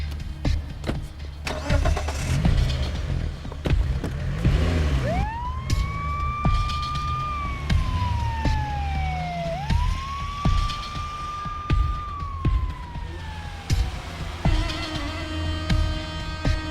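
An ambulance siren wails over a running vehicle engine, two long rising-and-falling sweeps that sound fairly close, with engine rumble throughout.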